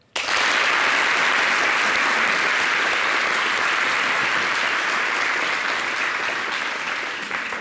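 Studio audience of a French-language TV talk show applauding the coaches on set; the clapping starts abruptly and holds as a loud, dense, steady roar throughout.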